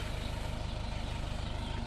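A truck engine idles steadily nearby with a low, even rhythmic throb and no speech.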